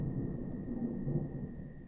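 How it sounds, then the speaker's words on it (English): Thunder from a nearby storm rumbles low and continuously with no sharp crack, over a steady thin electrical whine indoors. "Oh man, that thunder is getting loud"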